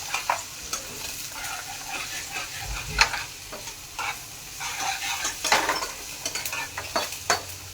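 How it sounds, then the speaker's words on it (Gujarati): Onions sauté in a pan with a continuous hiss and sizzle, punctuated by irregular spoon scrapes and clinks as they are stirred, close up and free of talk. "હવે આપણે 1 બાઉલ લઈશું ડુંગળી, તે પણ આપણે સાથે જ એડ કરી લઈશું. હવે આપણે તેને શેકી લઈશું."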